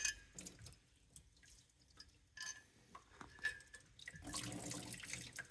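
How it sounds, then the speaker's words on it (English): Water drips and trickles from the bolt holes of an Indmar 350 (5.7L Chevy) boat engine while its circulating water pump is removed: faint, irregular splashes and patters that build into a fuller run of water near the end. "You can see water coming out these bolt holes."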